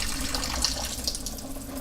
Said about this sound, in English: Completely into the drain,